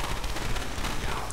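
Rapid crackling bursts of fireworks in Left 4 Dead 2, a dense string of sharp pops like gunfire packed into a short, loud stretch amid background game noise.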